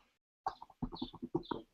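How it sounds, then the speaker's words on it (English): Backyard chickens cluck faintly in the background during a book discussion call, a quick run of soft, choppy clucks. "Who's got birds in the background?"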